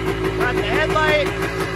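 Close, steady running of a 1978 Yamaha DT250 two-stroke motorcycle engine, a loud pulsing idle with a slight rise and fall in pitch.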